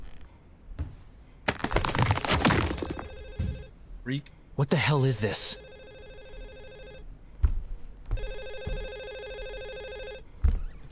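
Telephone ringing in the police horror game Hazing Night Shift, repeated electronic ring bursts with pauses between them, mixed with loud speech and clatter.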